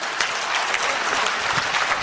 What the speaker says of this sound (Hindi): can we give him a big round of applause